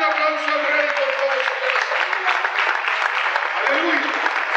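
Sustained, dense applause from a church congregation during a Spanish-language evangelical service fills the room steadily, with a voice carrying over the clapping near the start.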